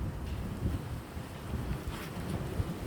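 Strong wind roars outdoors during a heavy snowstorm while children play in the snow, a steady, loud, buffeting rush with gusty swells close to the microphone.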